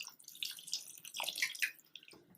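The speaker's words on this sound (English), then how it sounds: "Add required amount of water till it covers the tomato" Water pours and splashes into a cooking pot of tomatoes, a close, bright trickling with uneven drips and gurgles rising and falling over a couple of seconds.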